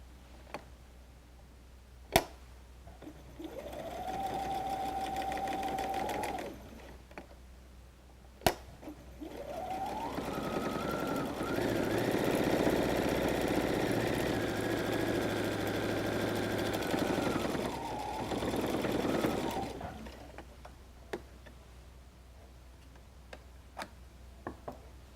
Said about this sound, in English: I'm going to go to my next fold, and I'm going to sew this fold down.